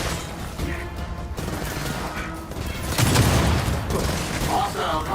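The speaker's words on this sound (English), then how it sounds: "Introduced in Gears of War 4, the Overkill shotgun holds up to 4 shells that fires 2 rounds with each pull and release of the trigger." The Overkill shotgun from the video game Gears of War 4 and Gears 5 fires two rounds with each pull and release of the trigger. Heavy blasts come through a dense, continuous wash of game noise.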